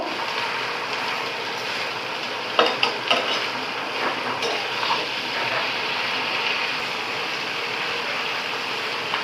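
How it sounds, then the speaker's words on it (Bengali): Sponge gourd being stir-fried in a wok with onion, garlic and chilli, a loud hissing sizzle with clattering scrapes of a spatula against the metal, close and with no speech. "এখন এই যে পেঁয়াজ, রসুন এবং মরিচের সঙ্গে সুন্দর করে ধুন্দুলটাকে মিক্সড করে নেব"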